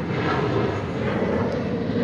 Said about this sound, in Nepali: प्लेन आइगयो